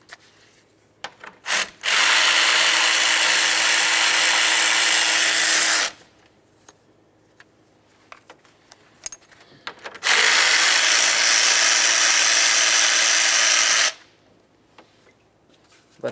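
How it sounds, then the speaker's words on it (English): A ratchet spins out two 10mm bolts holding the radiator cooling fan assembly on a 2007-2012 Nissan Sentra, as two long, loud, steady mechanical whirring runs separated by a pause with small clicks and handling noises. "Next, we can remove our two 10mm headed bolts that hold the fan assembly to the radiator."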